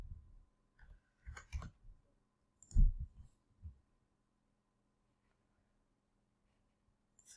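A computer mouse clicks quietly in a still room, with a few scattered single and double clicks spaced over several seconds and long silent gaps between them.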